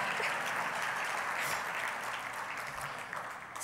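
A crowd claps steadily and densely throughout, a continuous close wash of applause at a speech event, holding even without a break for the whole stretch.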